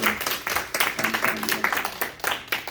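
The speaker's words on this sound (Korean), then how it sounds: "우리 박수로 한번 격려해 줄까요?" A church congregation claps in encouragement for a departing member, close and loud with a quick, uneven rhythm of individual claps, and a few voices mixed in.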